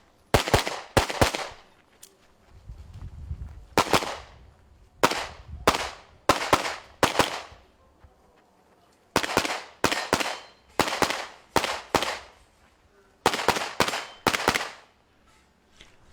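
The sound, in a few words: gunshots during a practical shooting competition stage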